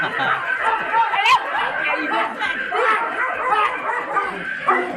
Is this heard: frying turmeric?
no